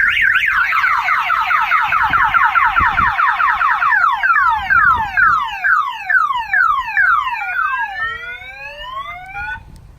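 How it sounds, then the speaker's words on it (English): Clifford car alarm fitted to an H3 Hummer, set off in panic mode, blaring loud and close through a continuous run of rapidly cycling electronic siren tones that shift into slower rising whoops and chirps, with no talking. "If you hold the star down, you can fire the panic."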